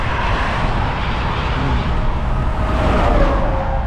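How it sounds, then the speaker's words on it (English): Highway traffic zooms past close by in a steady, loud rumble and whoosh, one vehicle swelling and fading toward the end. "Traffic zooming through here."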